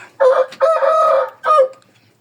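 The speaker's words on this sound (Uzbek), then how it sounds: "Mana xo'rozni hozirgi holati." A rooster crows loudly and close by, one long drawn-out call followed by a shorter final note, with no other sounds around it.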